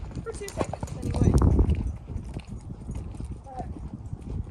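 Horse hooves striking the ground at a lope while the mare circles on a lunge line, a rhythmic clip-clop rising louder near the middle and then easing, with a person talking over the steps.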